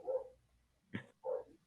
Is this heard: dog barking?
yes